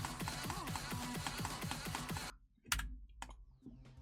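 Rapid clicking and key tapping while playing a game, fast repeated clicks in a dense run that stop abruptly, followed by a couple of isolated sharper clicks and quiet.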